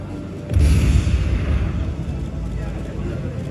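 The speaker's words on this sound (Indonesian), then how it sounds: "KNI jenis Fastback meluncurkan tembakan meriam utama." A navy warship of the Fastback type fires its main cannon during a military parade and weapons display: one loud, close blast followed by a long, rolling rumble that fades slowly.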